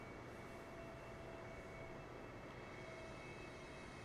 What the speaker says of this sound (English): Why sound like this plane's slowing down?